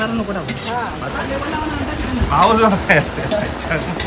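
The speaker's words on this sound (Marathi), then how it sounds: "आता पाऊस" Steady rain hisses in the background while people talk over it, their voices rising and falling above the constant patter.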